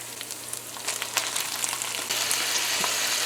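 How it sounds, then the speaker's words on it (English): Pork frying in a pot for Guyanese stewed pork, a steady close sizzle with crackling pops and brief stirring scrapes that grows slightly louder partway through, with no talk. "and now we're going to add our pork."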